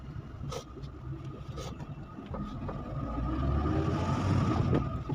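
A car being driven at an easy, unhurried pace on the way home, its steady engine and road rumble rising slightly in loudness over the stretch.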